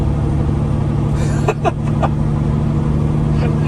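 A custom Peterbilt dump truck with an 18-speed automated transmission cruises in 16th gear, its engine giving a loud, steady, low drone throughout from inside the cab, with a few faint clicks over it.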